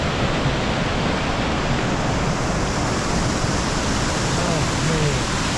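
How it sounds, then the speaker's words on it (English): Waterfall at Little Cow Creek roars as a steady, dense broadband rush of falling water, close and loud throughout with no pauses. "There's a waterfall up there."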